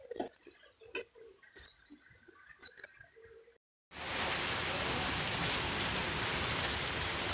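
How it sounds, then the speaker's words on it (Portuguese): Faint clicks and rustles, then a sudden steady wash of rain hissing on a surface, continuous and fairly close. "E chuva caindo."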